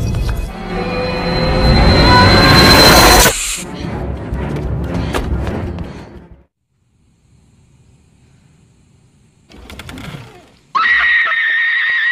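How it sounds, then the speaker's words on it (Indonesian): A woman screams in terror in a horror film about a cursed videotape, loud and sustained for a few seconds over a dense soundtrack, followed by quieter rumbling, a near-silent stretch, then a brief burst and a sharp tonal sound. "teriakan Rachel pun menggema mendapati kemalangan mantan kekasihnya itu"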